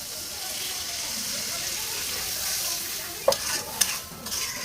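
Dried lotta fish curry fries and is stirred in a pan with a steady, moderate sizzle, then a few sharp utensil scrapes and clinks near the end.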